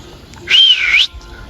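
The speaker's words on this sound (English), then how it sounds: "I will whistle." A person whistles outdoors in bright sunlight near a tree, giving a single sustained, gently wavering tone of about half a second, loud and close, rising slightly at the end over quiet ambient background.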